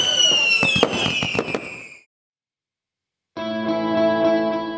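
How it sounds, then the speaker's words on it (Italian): Fireworks at an Alpini festival crackle and pop in a quick cluster of sharp bursts, then after a brief silence a sustained tonal sound follows. "tutto finisce con balli e fuochi d'artificio"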